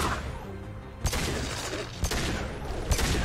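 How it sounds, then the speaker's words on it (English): High impact shots fired in the video game Mass Effect 2, three heavy booming blasts spaced about a second apart over a rumbling combat backdrop. "Firing a high impact shot."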